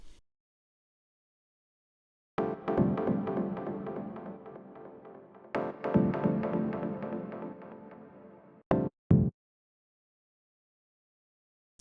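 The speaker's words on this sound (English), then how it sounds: "The next sound is these echo chords." Sustained synth chords made in Pigments with two oscillators ring out with echoing repeats, fading between hits, followed by two short stabs and silence.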